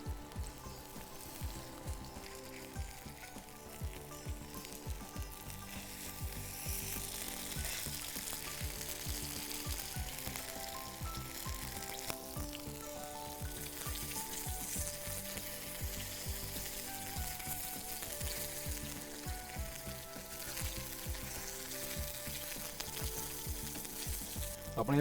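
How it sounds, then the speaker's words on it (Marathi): Paneer cubes frying in a pan until golden brown on both sides, a dense, steady crackling sizzle that holds for the whole stretch, close and even. "याला दोन्ही बाजूनी चांगल्या प्रकारे गोल्डन ब्राऊन होईपर्यंत फ्राय करायचं आहे"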